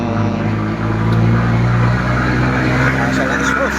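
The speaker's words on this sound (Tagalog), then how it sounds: "sobrang ingay ng truck na to" A loud, rumbling engine drones steadily close by, a heavy vehicle's noise filling the whole moment with a low hum.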